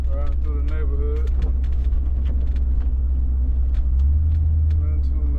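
A car drives through a residential neighborhood on a rainy Fourth of July, its engine and tyres making a steady, loud, close rumble throughout. A voice talks briefly over it.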